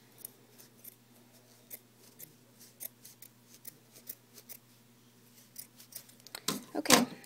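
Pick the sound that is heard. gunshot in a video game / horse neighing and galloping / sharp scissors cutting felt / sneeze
sharp scissors cutting felt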